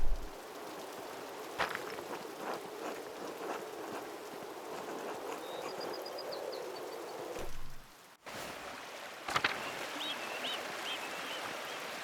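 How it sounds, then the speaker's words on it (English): A steady, soft rush of flowing water from a waterfall in the video game Pentiment, continuous and fairly distant, with a brief dropout and a few faint bird-like chirps. "Waterfall must flow down when the snow melt from the mountains."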